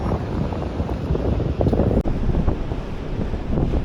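Strong ocean crosswind buffets the microphone on 90 Mile Beach in Aotearoa, a loud, continuous roaring rumble with surf underneath.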